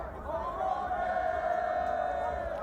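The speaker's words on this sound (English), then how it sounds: "they make the cheer about the trophy, saying "Okombe."" Kenya Shujaa rugby players chant a loud group cheer of "Okombe" after a trophy presentation at a finals match against Samurai, a sustained massed shout of voices over crowd noise.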